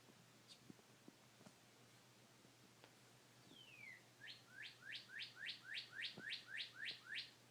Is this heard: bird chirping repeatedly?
yes